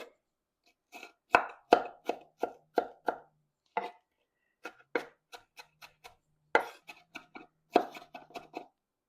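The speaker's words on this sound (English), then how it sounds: "Just go through it and chop it a little finer." Knife chopping meatloaf ingredients finer on a board, crisp close taps in quick uneven bursts of several strokes with short pauses between.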